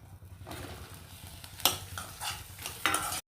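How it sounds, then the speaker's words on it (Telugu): Green chillies fry in a hot pan for a ridge gourd chutney, a steady close sizzle with sharp scraping stirs of a spatula against the metal, loud and continuous without speech. "ఇప్పుడు పచ్చిమిర్చి వేయించుకుందాం"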